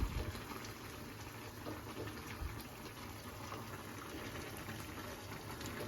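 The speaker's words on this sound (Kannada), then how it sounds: "ಚೆನ್ನಾಗಿ ಕುದೀತಾ ಇದೆ ಮ್ಯಾಗಿ" Maggi noodles boil in a pot on full high flame, giving a steady, close bubbling hiss that continues evenly throughout with no talk.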